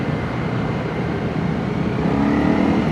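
A Honda CRF 250 Rally single-cylinder motorcycle riding on the road, a continuous close engine drone mixed with wind rush that rises slightly toward the end.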